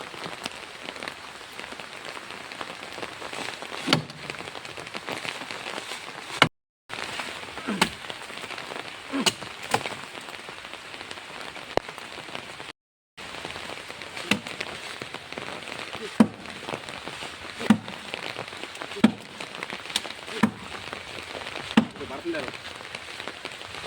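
Heavy rain falls steadily on a road, a constant hissing downpour with scattered sharper drop impacts and brief breaks in the sound.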